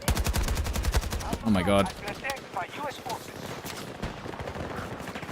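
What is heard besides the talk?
AK rifle gunfire in Battlefield video game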